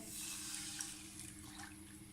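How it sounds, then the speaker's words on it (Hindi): Full cream milk pours into a preheated pan, a soft, continuous liquid trickle and splash heard faintly and alone. "ये दूध लिया है मैंने, ये जाएगा इसमें।"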